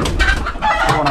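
Several chickens cluck close by in a busy, continuous run of calls, with a rooster's crow mixed in among the poultry noise.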